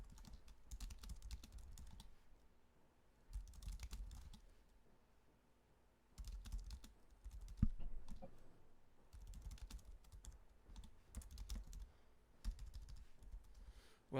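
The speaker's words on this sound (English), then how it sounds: "I hate typing that long command line" Someone types on a computer keyboard in quick bursts of soft clicks separated by short pauses, all fairly faint and close with no talking.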